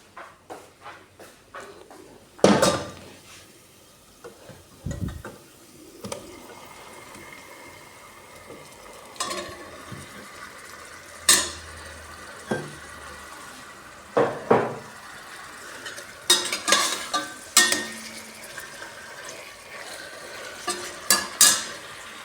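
Chicken pieces hitting a pan and being stirred, with intermittent sharp clatters of utensils and pot knocks over a low, steady frying hiss, close and fairly quiet overall.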